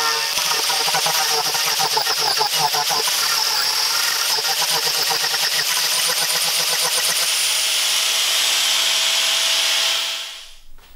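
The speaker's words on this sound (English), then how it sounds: "I have a power carving disc in here, and I'm just going to carve that guy off" A power carving disc grinding wood off a live edge table slab, a loud, steady abrasive roar with fast rhythmic chatter that runs unbroken for about ten seconds before cutting off.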